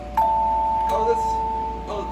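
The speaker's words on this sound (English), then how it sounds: "doorbell." A doorbell for sale in a metal barn store chimes two tones, the first ringing out sustained before a second, lower note follows, close and clear.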